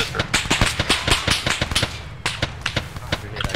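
Gunfire in the ArmA 3 combat game crackles in rapid bursts of sharp shots, some clustered like automatic fire and others single, loud and continuous across the few seconds.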